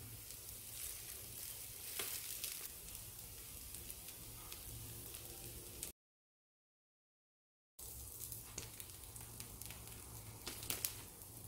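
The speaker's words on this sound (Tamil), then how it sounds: "பணியாரத்தை திருப்பி விட்டு 2 பக்கமும் செவக்க வேக வச்சு எடுத்துக்கணும்" Wheat-flour paniyaram fry in oil in a pan, giving a constant close sizzle with faint crackles. The sizzle cuts out to silence for about two seconds midway, then resumes unchanged.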